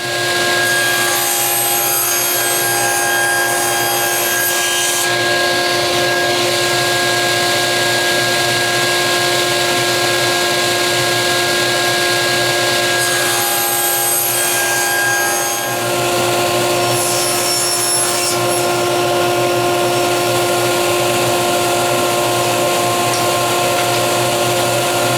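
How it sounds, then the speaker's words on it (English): Half-inch maple stock being ripped into narrow strips on a power saw, a loud continuous whining drone with steady cutting noise that shifts in pitch as the blade bites and eases, running nearly nonstop. "we're going to take that half-inch stock and we're going to rip it into 1¼ inch strips"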